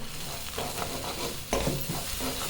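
Pepper and salt stirred in a frying pan with a spoon, a steady close scraping and stirring with a soft sizzle underneath and one sharper scrape midway.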